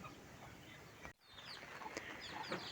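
A broody hen with her chicks gives soft, low clucks close by, while thin high cheeps from the chicks chirp through over a quiet farmyard background.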